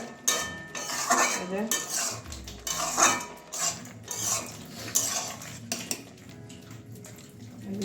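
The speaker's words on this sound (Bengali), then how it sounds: "বন্ধুরা এবার আবারও ঢাকনা খুলে নিচ্ছি দেখছি আমার ডালটা মোটামুটি সিদ্ধ হয়ে গেছে" A pot lid comes off a pan of simmering mung dal with beans, with several close metallic clanks and scrapes of cookware in a quiet kitchen.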